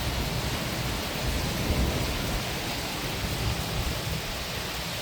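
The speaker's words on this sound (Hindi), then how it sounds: "क्या भयानक बारिश हो रही है, बादल हो रहा है।" Heavy rain pours steadily in a dense roar, with low rumbling thunder rolling underneath throughout.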